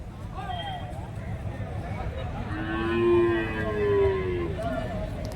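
Nearby, a cow with her calf gives two long, low moos over a busy outdoor murmur of voices and crowd noise at the Karimangalam cattle market in Dharmapuri district.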